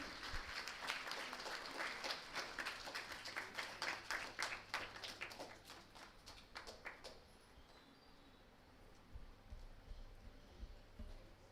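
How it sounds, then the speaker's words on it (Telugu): An audience at a classical music cultural event claps in a fairly faint, steady burst that thins out into scattered claps and then dies away. "బిగ్ క్లాప్స్ అండి అందరూ."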